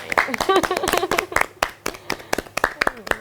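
Several sharp hand claps ring out close by in an uneven rhythm, mixed with brief voices and laughter, a small round of applause rather than a large crowd.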